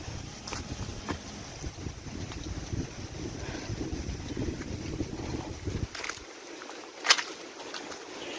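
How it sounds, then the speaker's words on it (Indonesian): Steady broadband rushing of a river flowing nearby at Coban Glotak in Wagir, Malang, continuous with some wind buffeting, then cutting to a quieter, thinner flow near the end. "Cuma dari sini udah kedengeran jelas nih aliran sungainya."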